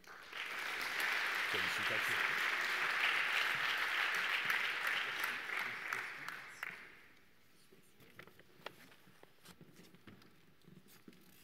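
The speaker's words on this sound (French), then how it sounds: "nous approuvons ce choix par nos applaudissements" An award ceremony audience applauds a trophy winner with dense, sustained clapping for several seconds before it dies away, followed by quieter room noise and a brief spoken congratulation.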